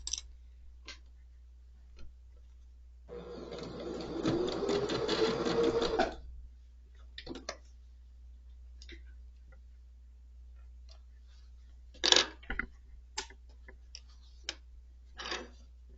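A sewing machine back stitching to finish a curved quilt block, with a steady mechanical burst of about three seconds in a quiet room, followed by sparse ticks and clicks as the work is handled.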